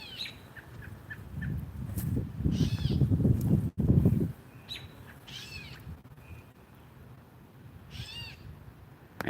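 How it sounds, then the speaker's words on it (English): Red-tailed hawk chicks crying outdoors, repeated high thin wavering calls in short bursts, with a louder rough rumbling sound in the middle. "the hawk babies are crying. I can hear them."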